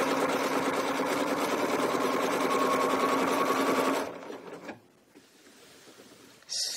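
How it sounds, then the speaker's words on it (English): A domestic sewing machine runs a quilting line with ruler work, a steady fast mechanical whir of stitching that stops after about four seconds, leaving near silence before a short burst of noise. "I'm going to stitch another line"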